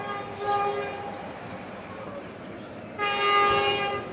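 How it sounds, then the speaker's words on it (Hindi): A Pakistani Shalimar Express train hauled by a GU40 locomotive approaches on the Rohri–Karachi line, sounding two long harmonic horn blasts over a steady rumble, the second louder and nearer. "जिस तरह विस्लिंग करता हुआ आ रहा दोस्तों, मुझे तो लग रहा है शालीमार अपने वही जोबन पे आ रहा है।"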